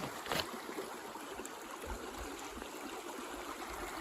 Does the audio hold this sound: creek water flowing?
yes